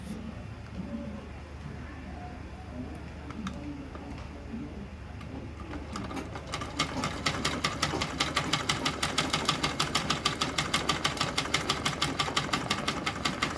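A sewing machine stitches the bottom of a zipper bag closed, a fast even rattle of needle strokes that starts partway through after a quiet stretch and goes on steadily and close to the end.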